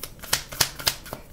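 Tarot cards being shuffled by hand, heard as a run of short crisp riffling snaps at a steady, slightly uneven rhythm, close and moderately loud with no talking.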